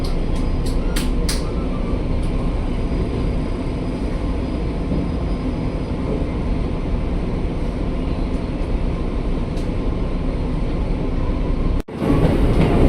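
A KRL commuter train approaches Gambir station and halts at its entry signal: a loud, steady rumble of rolling carriages heard from inside, with faint squeals and a sharp clunk near the end.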